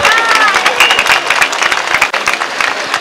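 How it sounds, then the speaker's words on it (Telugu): Audience applause at an Ambedkar statue unveiling event in Srikakulam, dense steady clapping from a large crowd filling the whole moment, loud and close, with a brief dip near the end. "చప్పట్లు కొడదాం అందరం కూడా."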